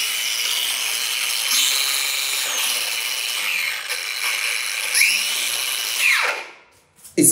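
A Bosch GXX X-Lock angle grinder runs continuously at variable speed, a loud, close high-pitched whine whose pitch rises and falls, then spins down and stops near the end.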